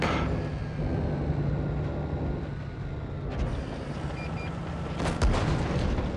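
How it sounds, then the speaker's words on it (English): A heavy cannon blast from the Tankenstein tank in a tank battle video game cuts through a steady, dense engine rumble, with a sharp crack late in the shot and a lesser thump a couple of seconds earlier. "I take a big shot from that giant gun on the Tankenstein"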